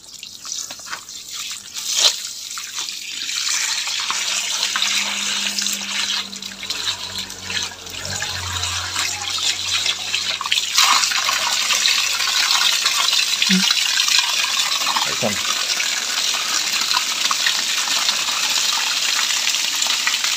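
Water draining out of a catfish pond being emptied for harvest, a continuous close gushing and dripping flow that stays loud throughout, no talking.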